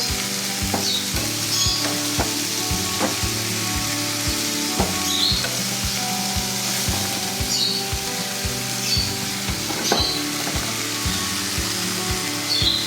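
Onions fry in a pan with a steady, close sizzle while being turned over, a spatula scraping and knocking against the pan in irregular strokes.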